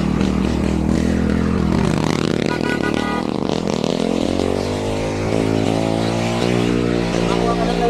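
A motorcycle engine revs and drones close by on a steep uphill road in Tagaytay, its pitch rising and falling as it passes, heard under the rider's own engine noise and wind.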